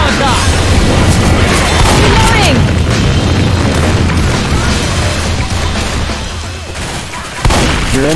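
A pipe bomb blast in Left 4 Dead 2 sets off a loud, sustained roar of explosions and gunfire that continues for several seconds, with shouting voices mixed in and a fresh burst near the end.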